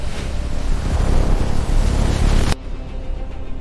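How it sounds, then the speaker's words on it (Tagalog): Loud, rough roar of large storm waves crashing at sea with wind, dense and continuous, then abruptly dropping to a quieter wash of water and wind near the end. "Isang higanting alon ang papalapit na tila kayang lunukin ang barko."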